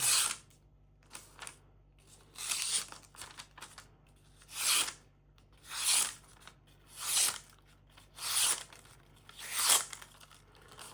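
A knife slices through thin receipt paper in a run of about eight distinct crisp tearing strokes at a steady, unhurried rhythm, close and fairly loud with quiet gaps between cuts.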